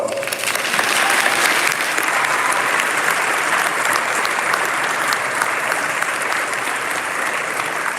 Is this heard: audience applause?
yes